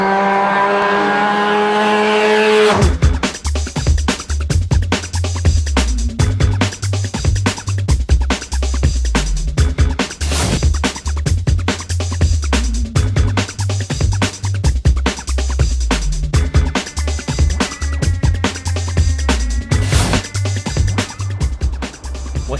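A top fuel Honda Civic race car rated at 500 brake horsepower roars loudly and continuously close by, its engine note rising and falling through gear changes with tire squeal mixed in.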